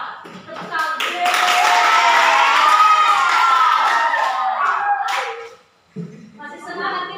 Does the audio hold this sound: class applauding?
yes